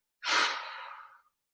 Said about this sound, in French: On bloque la respiration et sur l'expire, on souffle par la bouche.